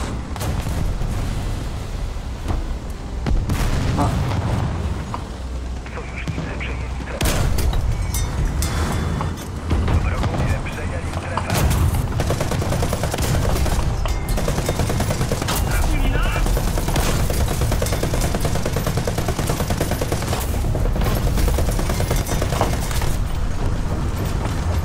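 Tank cannon and machine-gun fire in the War Thunder video game, a dense, loud stretch of repeated booming shots and rattling bursts continuing throughout, with some speech mixed in.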